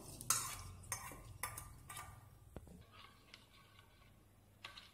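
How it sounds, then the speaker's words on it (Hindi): A spoon stirs hot spiced tempering of green chilli and curry leaves into yogurt in a bowl, giving a few distinct scraping clinks against the dish at irregular intervals, fairly faint and close, with no talk. "बघार को अच्छी तरह मिक्स कर देंगे।"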